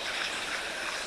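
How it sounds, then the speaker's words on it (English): Water from the Sylvia Cascades tumbles over dark moss-grown rocks with ferns in the crevices, a steady close rush of splashing flow that fills the whole second without pause. "on our left are the Sylvia Cascades, which tumble over dark moss-grown rocks with numerous ferns in the crevices"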